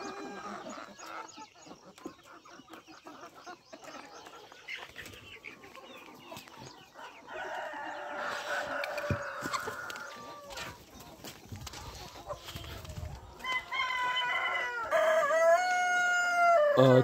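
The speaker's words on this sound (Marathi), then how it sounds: "आपल्याकडे हा ब्लॅक ॲस्ट्रोलाब जातीचा कोंबडा आहे।" Black Australorp rooster and hens on a poultry farm, with clucking and scratching throughout and a loud, near crow rising at the end amid wing flaps.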